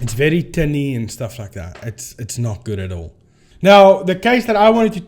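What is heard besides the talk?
No distinct noise like a dog, phone or traffic.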